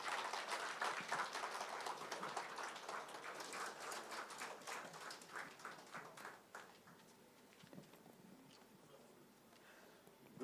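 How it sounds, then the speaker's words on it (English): An audience in a hall applauds to welcome a company's MD and CEO at a 25th foundation day celebration, a sustained patter of many hands that slowly thins out, heard faint and distant. "please welcome him with a round of applause"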